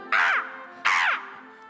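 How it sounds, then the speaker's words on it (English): Two loud, harsh bird squawks, like a crow or gull cawing, ring out as a sound effect on a high school stage musical of The Little Mermaid, each about a third of a second, over a faint hum. "Away, you filthy bird!"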